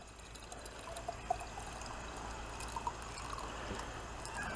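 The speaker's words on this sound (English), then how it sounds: "now what we're going to do is pour the water into the jar" Tap water pours steadily into a jar, a continuous close splashing trickle with faint drips, running for several seconds without speech over it.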